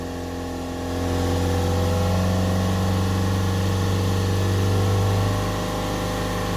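A Ford Transit 2.2 diesel engine with an underboost fault, revved and held steady at 3000 RPM, a loud continuous drone that swells up after a second and stays even before easing slightly near the end.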